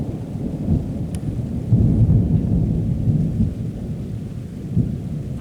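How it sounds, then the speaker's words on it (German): Deep rumbling thunder rolls continuously through a severe nighttime thunderstorm with rain and hail, loud and sustained with a few swelling peaks. "schöne Donner."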